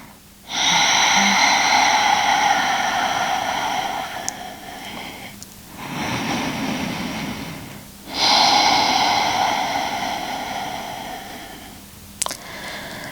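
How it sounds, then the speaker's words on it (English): During a yoga session, deep breaths are drawn in and pushed out, loud and close: a long airy breath, a softer one, then another long strong one, with quiet gaps between. "One more inhale. And one more exhale."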